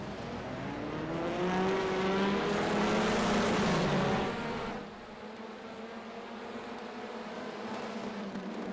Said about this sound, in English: Engines are revving once again